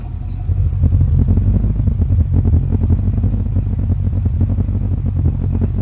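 A 1953 Chevy engine idling after sitting for a while, a steady low rumble close by with an even, continuous pulse and no revving.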